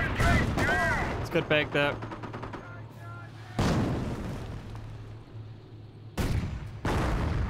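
Company of Heroes battle: bursts of gunfire and booming impacts come and go in loud chunks, with soldier voices and radio chatter talking over and between the shots.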